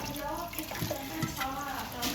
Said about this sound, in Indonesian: Lalu bilas pakai air mengalir.